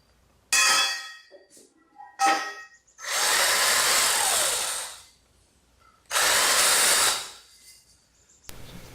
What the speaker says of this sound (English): Now I'm using a bigger bit to deburr these things